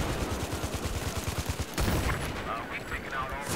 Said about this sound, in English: they're trying to snipe me, boys